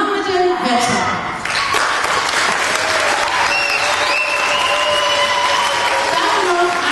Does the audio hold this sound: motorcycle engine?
no